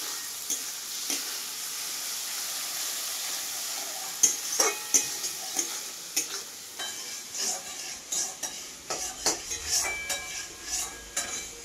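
Spice paste of ground mustard fries in a pan for a fish curry with drumsticks and potatoes, a constant hiss under frequent clinking, scraping strokes of a metal spatula against the pan, near and unaccompanied by speech.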